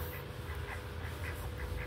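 Ducklings quack softly at a hotel pond with several short, faint calls spaced through the clip. They sound a little distant over a steady outdoor hiss and low rumble.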